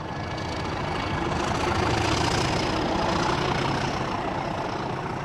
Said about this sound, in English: The growl of the 37 will be with us for longer.